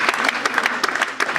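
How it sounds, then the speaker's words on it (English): A live launch event audience in the UK bursts into dense, sustained applause, many hands clapping at once, loud and close. "just a huge round of applause for all those people right now"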